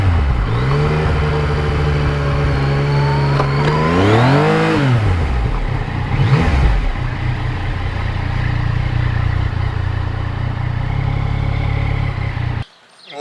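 A Yamaha MT-09 motorcycle on a ride hums along steadily, then its engine swoops up and down in pitch around the middle. Wind rush runs throughout before the sound cuts off abruptly near the end.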